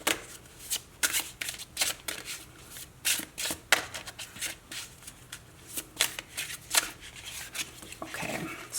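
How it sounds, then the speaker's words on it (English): A deck of oracle cards is shuffled by hand in repeated riffling bursts and soft slaps, close and crisp, with no speech. "So let's pull some more cards here."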